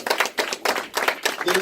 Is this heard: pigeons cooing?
no